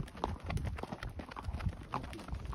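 Horse hooves clip-clop in an irregular rhythm along a forested mountain trail in the Sierra Nevada, fairly close but soft, with light rustling around them.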